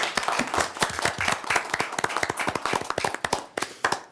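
Meeting attendees give a round of applause, a modest group of individually distinct, close hand claps in an uneven patter at moderate volume.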